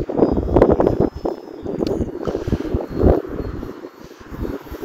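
Outdoor wind buffeting the microphone in rough, irregular gusts, loud low rumble swelling and easing with no talk.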